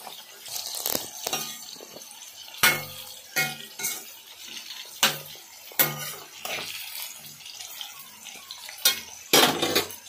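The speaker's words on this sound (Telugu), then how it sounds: "మంచిగా వేయించుకోవాలండి తిప్పుకుంటూ" Bitter gourd pieces fry over medium heat in a pan and are turned repeatedly, with sharp metallic scrapes and clinks of the utensil recurring over a soft sizzle, nearby and without talk.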